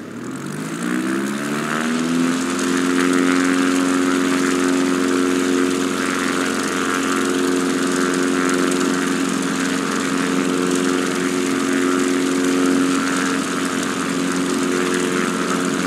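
A propeller aircraft engine in Microsoft Flight Simulator spools up within the first two seconds, then holds a loud, steady drone with a strong harmonic hum throughout the departure.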